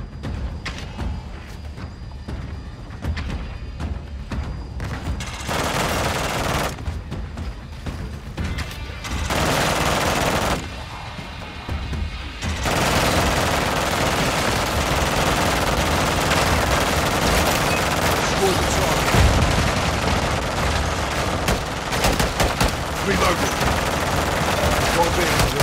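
Heavy automatic gunfire rattles loud and nearly continuous in a Call of Duty battle, in long sustained bursts with brief lulls, and voices can be heard amid the shooting.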